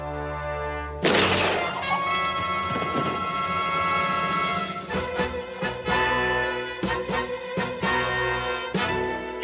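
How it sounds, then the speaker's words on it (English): A single sharp gunshot cracks out in a TV comedy scene set in an apartment, a loud, sudden blast that gives way to a lingering musical score with percussive hits. "did I just hear a gunshot?"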